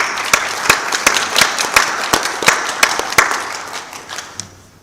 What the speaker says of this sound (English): if I could ask just for a round of applause for the magnificent panelists